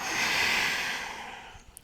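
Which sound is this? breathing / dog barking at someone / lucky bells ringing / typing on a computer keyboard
breathing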